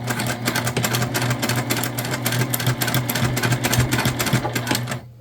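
A sewing machine basting fabric for a book sleeve, its needle hammering in a fast, steady mechanical rhythm close up for several seconds, then stopping abruptly, with no speech.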